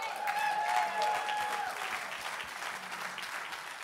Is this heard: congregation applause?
yes